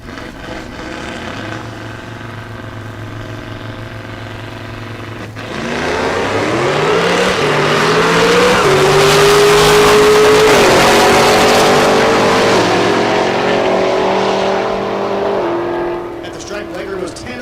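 Drag racing cars launch side by side down the strip at Texas Motorplex, one a Dakota, engines roaring loud and rising in pitch after a steady idle, with an announcer talking over the run.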